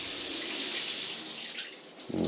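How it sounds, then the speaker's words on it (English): Water running from a shower tower system, a steady hissing spray that fades slightly, then a fuller gush of water starts near the end. "And that is the shower."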